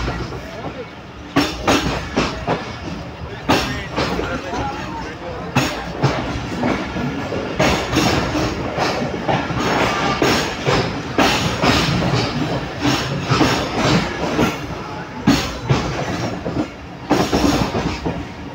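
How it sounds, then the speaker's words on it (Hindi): The Shalimar Express passes close by in Pakistan, its loud rumble punctuated by a steady clickety-clack of wheels over rail joints that persists throughout, with a voice faintly heard at times. "अचानक से नज़र आई शालीमार एक्सप्रेस पास होती हुई"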